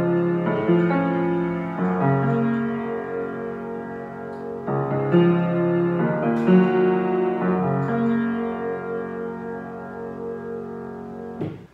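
Piano plays the arpeggiated pattern from a song, sustained chords rolling continuously at steady moderate loudness, close and alone without any voice.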